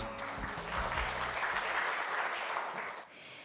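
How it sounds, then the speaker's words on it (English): Applause from the audience at the opening ceremony of a 2023 symposium: a full, steady burst of clapping that holds for about three seconds and then drops away quickly, leaving quiet room tone. "Let's give them another big round of applause."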